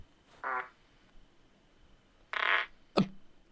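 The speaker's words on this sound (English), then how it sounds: "they've added fart noises" Two added fart sound effects, a short buzzy blurt then a longer one, followed by a sharp click, loud against an otherwise quiet background in an influencer's video.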